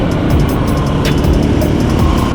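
A car rolls through the city streets of Iquitos, a steady broadband road and engine rumble with faint ticking and clatter, loud and close throughout, no voices.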